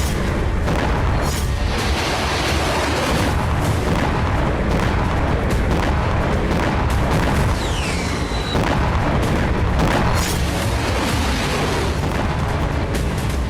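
A dense, continuous roar of distant explosions and booming blasts from wartime strikes in Crimea, with overlapping heavy thuds and crackle throughout and no voices.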